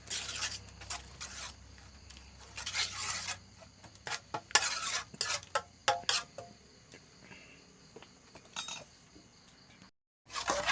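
Curry paste and coconut milk stir-fried in a pan, with irregular scraping and clinking strokes of a utensil against metal over a faint sizzle, close and quiet, ending in a brief silence.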